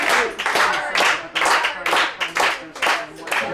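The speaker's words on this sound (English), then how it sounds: "So there's just been a big round of applause here" A crowd bursts into applause over an election projection in Canada, a dense, loud run of clapping with rolling swells that carries on throughout.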